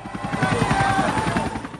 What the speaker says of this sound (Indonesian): terdengar suara helikopter menuju ke arah mereka